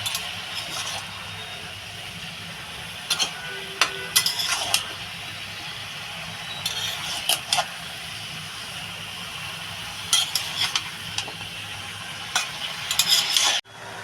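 Vegetables being stirred in a frying pan, with a soft sizzle underneath and scattered bursts of metal utensil scraping and clinking against the pan, spaced irregularly across the stretch.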